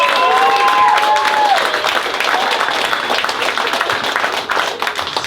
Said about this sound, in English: Round of applause for both of their beautiful vows.